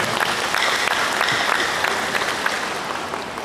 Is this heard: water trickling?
no